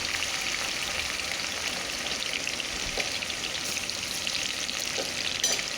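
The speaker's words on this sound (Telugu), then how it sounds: "ఉల్లిపాయలు బ్రౌన్ కలర్ వచ్చే వరకు వేయించుకుంటున్నానండి" Sliced onions sizzle steadily in hot oil in a pan while being fried until brown for a mutton head curry, a continuous crackling hiss with occasional stirring scrapes and no voices.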